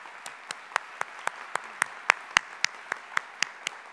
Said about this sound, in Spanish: Yo pido un aplauso muy fuerte